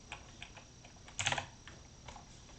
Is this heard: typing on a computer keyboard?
yes